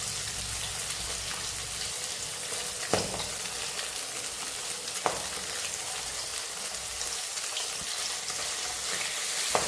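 Four pieces of soft chital knife fish fry in a pan, making a continuous, even sizzle with a few sharp clicks as they are turned.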